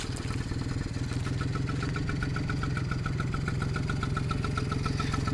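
A 1978 Yamaha Chappy LB50 motorcycle idles, its small engine chugging in a steady, rapid, even rhythm, close and unbroken.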